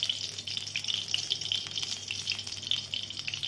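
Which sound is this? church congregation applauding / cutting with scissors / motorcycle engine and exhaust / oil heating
oil heating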